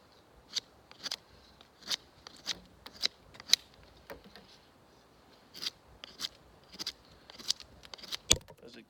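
Ontario Ka-Bar Mk2 combat knife carving wood: a run of sharp, close scraping and shaving strokes in uneven bursts, each stroke brief and crisp, with quiet pauses between.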